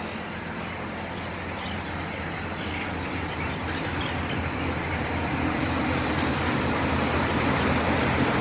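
A motor-driven auger pushes feed through pipes into the feeder pans on a broiler chicken farm, producing a dense, continuous mechanical rumble and hiss that stays loud and steady throughout, with faint bird chatter from the flock.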